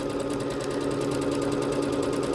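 A Bernette B-77 sewing machine runs at high speed sewing decorative stitches, a loud, continuous rapid mechanical whir with a fast, even needle rhythm throughout.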